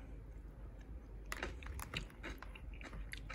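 Crunchy Miyama brand kimchi from a Japanese market in Yokosuka is chewed close up, a quiet run of irregular crisp bites and crunches with no speech.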